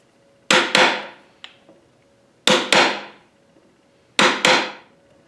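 A chisel is driven into wooden cabinet door stock with a hammer: three loud, close pairs of sharp blows at steady intervals, each double strike ringing briefly, with a fainter tap between the first two pairs.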